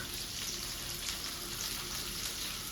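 Onion, ginger and garlic frying in a pan for mutton curry, a steady broad hiss of sizzling that holds evenly throughout, close and fairly loud, with no voices.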